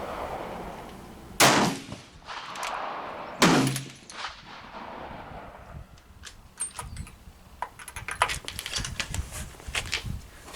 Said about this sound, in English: now I'm just shooting a few to get it fouled